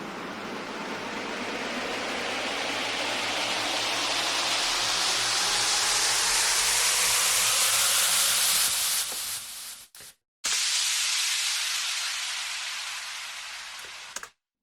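A synthesized white-noise sweep rises steadily in brightness in a house music build-up, then cuts abruptly to silence before a bright noise burst returns and fades.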